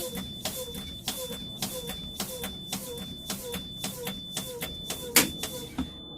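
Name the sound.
bus low air pressure warning buzzer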